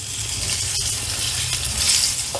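Stuffed bitter gourd, just flipped, sizzles in hot oil in a pan with a constant loud hiss and crackle, a brief utensil clink partway through and no talking.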